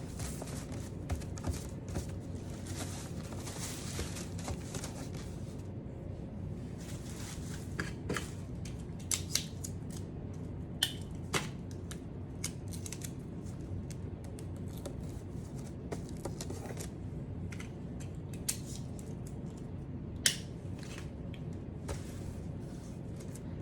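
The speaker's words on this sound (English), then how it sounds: "I'm just taping the tablecloth" Tape being pulled and pressed while a tablecloth is wrapped around a gift basket: steady rustling and crinkling close by, with scattered sharp ticks and snaps of tape over about twenty seconds.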